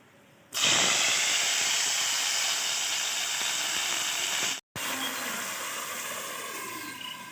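Sliced potatoes hit hot oil seasoned with five-spice tempering in a pan, bursting into a loud, steady sizzle that holds for several seconds, breaks off for a moment, then resumes just as strongly.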